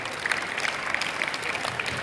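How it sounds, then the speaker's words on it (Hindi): Children clapping at a government school event after the principal is honoured, a sustained patter of applause from a crowd at moderate distance, with no talk over it. "प्रिंसिपल साहब का सम्मान हुआ तो बच्चे खूब तालियां बजा रहे हैं"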